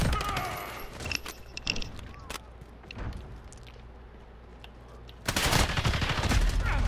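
Gunfire in the Call of Duty Modern Warfare video game: rapid automatic bursts crackle close and loud, thin out into a quieter stretch, then a heavy sustained burst erupts near the end.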